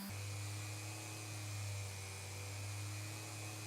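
A buffing wheel spins against a Morgan dollar coin ring, giving a steady, loud, unbroken motor whine with a constant hum throughout and no speech.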